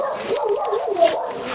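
A dog on a farm gives a run of whimpering yips and small whining barks, close and moderately loud, with no clear talk over it.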